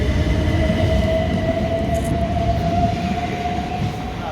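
An empty coaching stock train passes through Three Bridges station with a steady, loud rumble of wheels on rails and a faint high whine, fading slightly toward the end.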